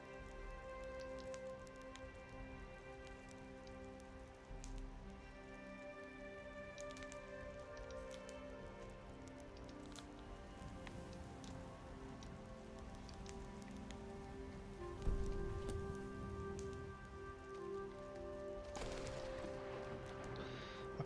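Steady video game rain patters on a surface throughout, with a brief louder thump partway through and no talking.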